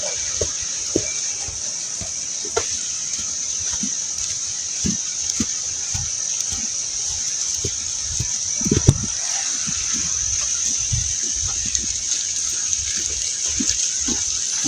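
A small river flows steadily in the background, a broad constant wash of water with scattered faint knocks and brief rustles over it, no talk.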